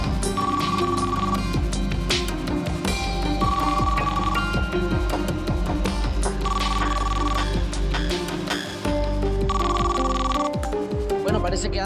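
A telephone rings repeatedly on an outgoing call in a steady repeating pattern, mixed under loud background music throughout.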